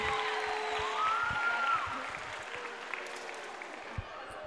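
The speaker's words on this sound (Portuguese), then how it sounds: "Palmas para o Gustavo!" Applause rings out in a school auditorium as a first-year student is called up at a reading project opening, a steady wash of clapping from the crowd that swells and then thins out, with a brief tone over it.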